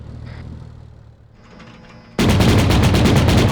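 Autocannon fire in Arma 3 cuts in suddenly after a low, rumbling lull, becoming a loud, rapid, evenly paced string of heavy shots that fills the soundscape.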